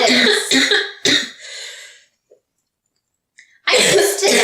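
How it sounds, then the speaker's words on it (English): A person has a coughing fit: several harsh, close coughs burst out in quick succession, then a quiet gap and a short catch, before another loud burst of coughing. "I had a coughing fit and needed to refill"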